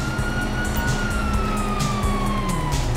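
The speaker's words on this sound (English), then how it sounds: "Oh, fuck, you hear that? Sirens!" Police sirens in Grand Theft Auto V sweep in steady, loud wailing tones over a low rumble of traffic and engines, with brief bursts of noise scattered through.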